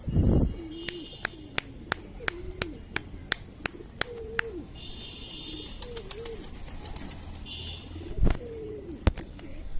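Pigeons coo in low, rolling, repeated phrases at a moderate distance, while a series of sharp, evenly spaced clicks punctuates the scene and a faint voice is heard in the background.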